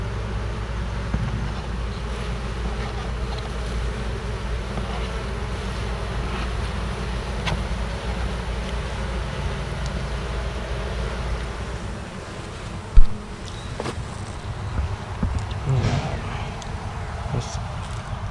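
Honey bees buzz around an open hive during a first inspection after a package install, a soft continuous drone with wind noise, close handling sounds and a sharp knock partway through.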